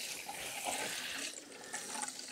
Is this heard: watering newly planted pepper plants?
yes